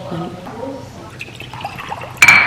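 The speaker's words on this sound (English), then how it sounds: "I'm gonna add like some water here" Water warmed to room temperature is poured into a container, giving a steady liquid trickle under background noise, then a bright, louder splash near the end.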